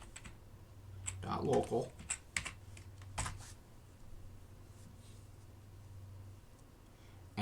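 Someone types on a computer keyboard, soft close clicks in a short flurry and then scattered keystrokes, while someone talks quietly.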